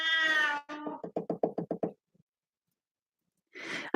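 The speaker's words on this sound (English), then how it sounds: "Come here, kitty, kitty." A cat meows twice, close and clear, followed by a quick run of about seven dull knocks, then silence and a short rustle at the end.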